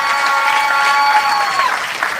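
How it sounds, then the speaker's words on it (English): An indoor town hall audience applauds the opposition leader and party president in Kingston, a steady dense wash of clapping, loud and close, with a faint voice underneath. "please give a round of applause to our leader of the opposition and party president"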